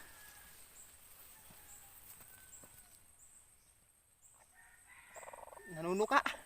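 Quiet background for several seconds, then a chicken breaks into loud, rising squawks and clucks near the end, close by.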